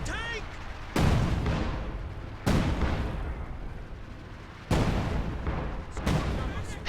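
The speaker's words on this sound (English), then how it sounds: "SU-76 is just pounding the Axis base" SU-76 self-propelled gun shelling an Axis base in a strategy video game: loud, heavy booming blasts land at intervals of one to two seconds, each followed by a rumbling decay, with some talk underneath.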